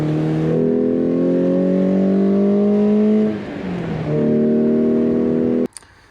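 A Lotus Elan car's engine drones steadily with a short dip midway as the pitch drops and recovers, heard from inside the car and cut off abruptly near the end.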